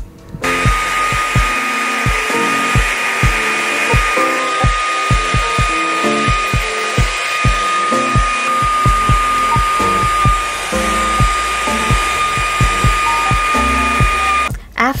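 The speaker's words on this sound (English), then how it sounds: "After I dry my hair" A hair dryer blows in a steady, loud, high-pitched whine while drying hair. Irregular thumps and rustles run through it throughout, and the sound cuts off near the end.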